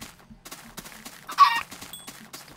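A chicken clucks in the video game Minecraft, giving a few short, faint clucks against quiet game background noise, with one brighter squawk in the middle.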